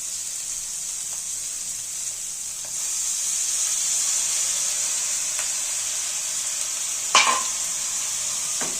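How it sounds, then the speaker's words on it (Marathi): A pan hisses and sizzles steadily as washed chivli leafy greens fry in it, a bright continuous crackle up close with a few faint scrapes and one sharper knock near the end. "आता आपण हे भाजी चांगली धुवून घेतली आहे स्वच्छ, ते टाकून घेऊया"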